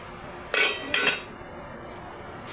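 A metal lid set onto a cooking pot of tilapia paksiw with eggplant on a stove gives two quick bright clanks about half a second apart, close and fairly loud, then only faint room hiss.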